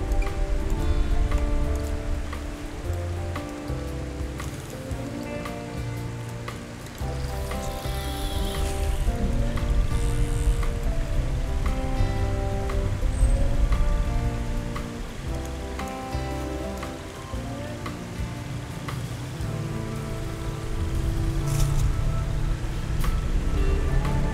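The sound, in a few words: rain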